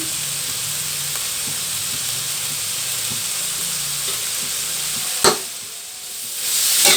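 Sliced carrot hits a hot frying pan while pancit is cooked, giving a steady close sizzle and hiss with a sharp clatter and burst of frying about two-thirds through.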